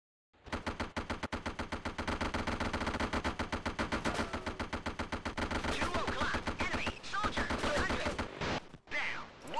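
Sustained machine gun fire in the video game Operation Flashpoint, a long, rapid, steady burst of loud, close shots that continues for several seconds before breaking into a few scattered rounds.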